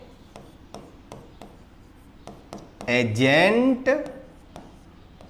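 Pen or chalk strokes while a teacher writes out a full name, a series of short scratchy marks spaced out, close and moderate, with someone speaking briefly over them.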